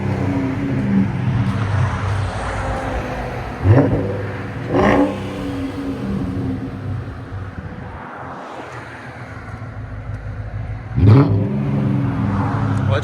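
A 2006 Jaguar XJ8 4.2L V8 with a Flowmaster Super 10 exhaust idles with a deep rumble, then revs sharply three times, each rise in pitch punching out loud and close before dropping back.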